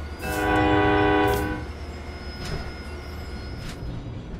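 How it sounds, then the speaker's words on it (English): Horn of an Amtrak cab car at the end of Amfleet coaches, a loud sustained multi-tone blast lasting about a second and a half, then fading into rail and station background noise. "That horn just sounded like really, it just didn't sound super natural. It sounded really like sharp"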